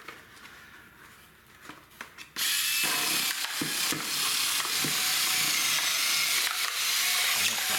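A Warrior cordless rotary cutter runs and chews through material after a few quiet handling clicks, then a sudden loud, steady motorised whir with a grinding, ratcheting edge continues to the end, no speech.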